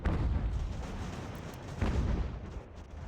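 Cannon artillery fire in a Revolutionary War battle game, with two heavy booms a second or so apart and rumbling tails over a continuous low battle din.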